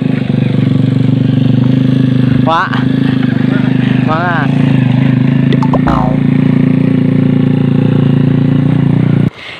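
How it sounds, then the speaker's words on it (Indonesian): A motorcycle engine hums steadily while riding along a badly damaged, broken village road in Indonesia, a loud, continuous drone close by with occasional rattles and brief voices over it. "Itu contohnya ada pengendara motor sana"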